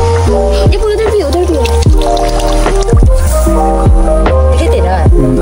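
Water flows out from inside the ground in a village, giving close, loud dripping and trickling with steady plops and gurgles over a constant wash of flow.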